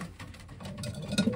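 Paired breeding racing pigeons in a loft give a few low coos near the end of a brief moment of quiet background rustle.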